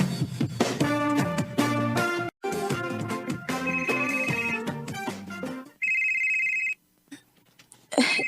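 A cellphone ringtone plays as a loud melodic tune with bright repeating tones, stopping briefly, resuming, then giving way to a sustained electronic tone before falling quiet.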